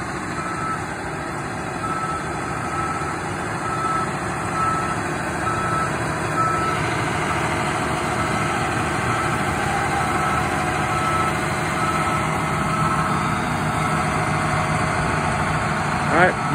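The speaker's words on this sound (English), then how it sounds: "So Easton pulled it off the trailer there, put some rinse water in" A John Deere R4038 sprayer backs off a trailer with steady reversing beeps over a continuous idling engine. The beeping stops partway through while the engine keeps running close by.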